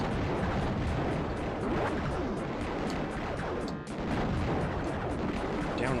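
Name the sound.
big bullets firing in video game Raptor: Call of the Shadows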